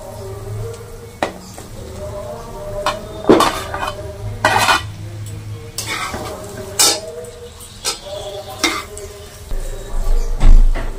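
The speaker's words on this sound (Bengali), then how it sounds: "এবার আমি এটা আলু চিংড়ি মাছ দিয়ে একটু কষিয়ে নেবো।" Spiced masala with potatoes and prawns being stirred in a pan for a banana-flower prawn dish, with repeated scraping and clinking of a spatula against the metal over a soft sizzle.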